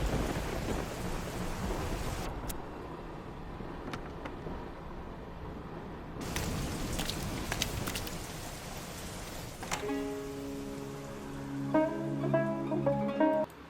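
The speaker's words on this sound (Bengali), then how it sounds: "কি সুন্দর বৃষ্টির সাউন্ডটা।" Heavy rain with rolling thunder opens a Coke Studio Bangla Season 4 song: a steady broadband downpour hiss with louder thunder surges, then tonal music enters over the rain toward the end.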